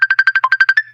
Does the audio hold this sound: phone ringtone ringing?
yes